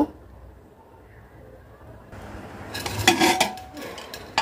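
Cut beef is dropped into a pressure cooker pot, starting with near-silence, then a burst of clattering metal and wet thuds of meat hitting the pot, close and fairly loud.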